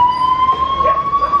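An ambulance siren sounds outside a sealed building where patients were found, a loud, steady, close wail whose pitch rises slightly, with no talking over it.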